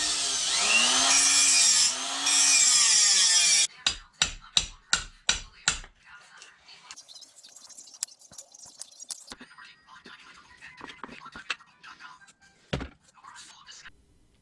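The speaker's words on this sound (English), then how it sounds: "I think I'm just going to use a cutoff wheel and cut this bad boy off." A cutoff wheel screams through a part on a Rubicon Express RE 1811 slip yoke eliminator install, a loud, continuous grinding whine with a wavering pitch for a few seconds, followed by a run of sharp metallic knocks and quieter clatter.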